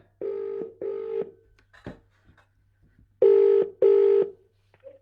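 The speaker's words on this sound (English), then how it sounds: "So let's get Alla on the phone." Telephone line tones while a call is placed: two pairs of clear electronic beeps separated by a pause, with a faint click between them, in a quiet setting.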